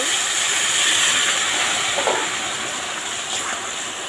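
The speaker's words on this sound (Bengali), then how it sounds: "এই যে ফোটানো জলটা এর মধ্যে এখন ঢেলে দেবো" Boiled water pours into spicy khichuri cooking in a pot, setting off a loud, close, rushing hiss and steam roar that holds steady and then eases slightly.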